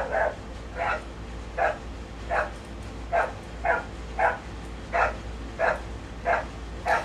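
A dog barks steadily, about a dozen evenly spaced barks over several seconds, moderately close and loud over a constant low background hum.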